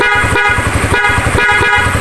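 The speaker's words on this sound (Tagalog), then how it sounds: "dito ko kinabit yung Mach horn with passing light." Mach horn fitted to a Raider 150 motorcycle, wired with a passing light, blares a continuous loud, buzzy tone with a rapid pulsing rattle throughout, close by and alone.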